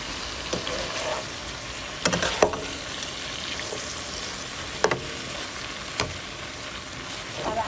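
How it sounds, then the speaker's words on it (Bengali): Frozen bitter gourd with turmeric, salt and onion fries in hot oil in a frying pan, a steady close sizzle broken by several sharp stirring scrapes and clanks against the pan, with no talking. "তেল দিয়ে ফ্রাই প্যানটা গরম করে তার ভিতরে এই যে ফ্রোজেন যেরকমভাবে ফ্রোজেন করলা দিয়ে দিয়েছি"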